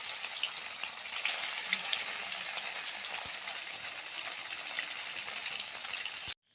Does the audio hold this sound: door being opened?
no